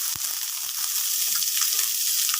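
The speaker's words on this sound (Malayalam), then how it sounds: "അതിലേക്ക് അരിഞ്ഞു വെച്ചിരിക്കുന്ന സവാള ഇട്ട് കൊടുക്കാം." Chopped onion hits hot oil with mustard seeds and curry leaves, setting off a loud, steady, close sizzle with a brief thump at the start as the onion drops in.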